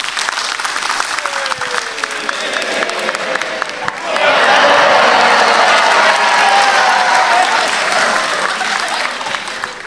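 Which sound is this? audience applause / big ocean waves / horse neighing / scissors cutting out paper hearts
audience applause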